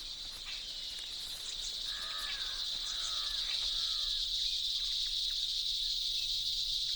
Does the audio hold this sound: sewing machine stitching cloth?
no